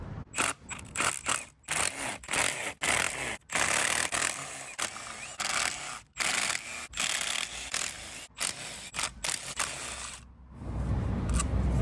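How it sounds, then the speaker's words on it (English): Someone removes the 8mm bolts around the clutch cover of a 1998 Honda VFR800 motorcycle. A tool makes close, repeated bursts of scraping and clicking, broken by short pauses. "this should be a simple case of removing all these 8mm bolts all the way around it"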